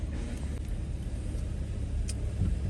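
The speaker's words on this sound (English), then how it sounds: "Looks like about 80 cars right now. 80 cars flexing in Denver" Cars idle and roll at an Amazon Flex warehouse in Denver, a steady low traffic rumble with engines murmuring nearby and a faint higher whine passing briefly.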